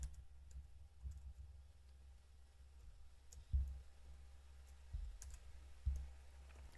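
Soft, faint computer mouse clicks at a desk, a handful of isolated taps spaced seconds apart against a quiet room background, with no talking.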